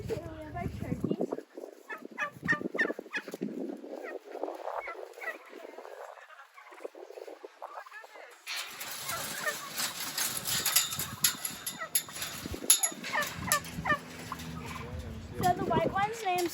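Turkeys on a farm in October give bursts of gobbling and fowl calls, fairly close and continuous across the clip, busier in the second half, with a person talking over them.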